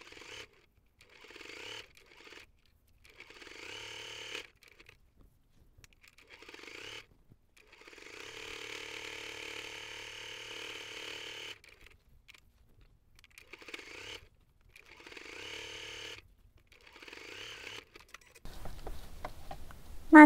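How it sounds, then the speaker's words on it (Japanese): A sewing machine stitches a U-shaped seam about 3 mm wide to attach a pocket onto a fabric bag stiffened with fusible batting, running in short, repeated bursts with quiet pauses between them and one longer continuous run. "ポケットをコの字で縫い付けます。 3ミリ幅ぐらいで縫っていきます。"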